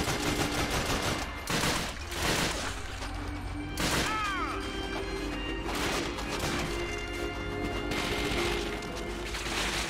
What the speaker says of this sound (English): Yeah, there's a machine gun.